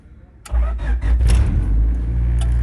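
A Honda Civic with a new starter cranks for barely a moment and fires almost instantly, the engine catching with a sharp burst and settling into a loud, steady idle close by.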